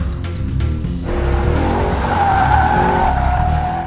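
Tires on a 2014 Mercedes-Benz C63 507 coupe squeal loudly and continuously as the car corners hard on a skid pad, with the engine droning underneath, close and sustained for about four seconds.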